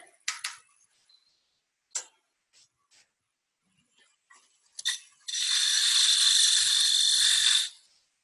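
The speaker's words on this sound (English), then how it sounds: "Peeling type cut with the skew chisel." A skew chisel takes a peeling cut on a spinning wood lathe, heard as a few short ticks and scrapes and then a sustained, fairly loud shaving hiss lasting a couple of seconds before it stops.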